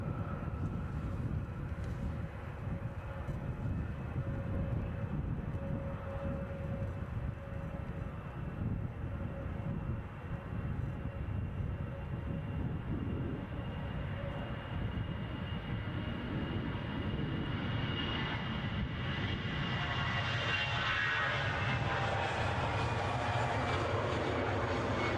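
KLM airliner rolling and powering along the runway at Edinburgh in a storm crosswind, a continuous loud engine roar with blustery wind noise that rises in pitch toward the end.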